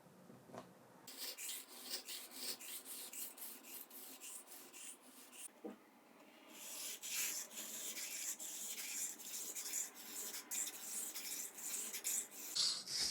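An axe from a Temu 9 in 1 set is sharpened on a 400 grit stone, with soft steady gritty rubbing strokes close up that grow louder and faster toward the end.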